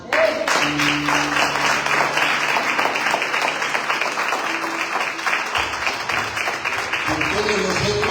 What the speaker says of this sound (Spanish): Y dar un aplauso